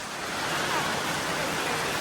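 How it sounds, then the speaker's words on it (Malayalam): Dense, steady hiss of heavy rain falling, even and unbroken throughout, close and fairly loud. "ഓ നല്ല മഴയാ."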